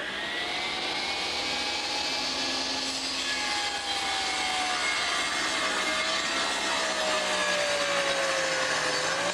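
A power saw, its blade tilted to an angle for a bevel cut, runs with a loud continuous whine and roar whose tone sinks slowly as the blade works through the wood.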